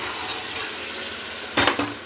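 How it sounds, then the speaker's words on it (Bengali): Mutton and potatoes are stir-fried in a pan, giving a steady, close sizzle with a couple of brief scraping stirs near the end. "আলু দিয়ে ভালো করে মাংসটাকে কষছি।"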